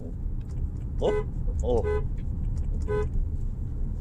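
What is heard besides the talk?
car horn honking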